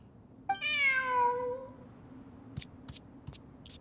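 A cat in the Genshin Impact video game gives one clear, drawn-out meow that rises and falls, followed by a few faint, sharp clicks in a quiet scene.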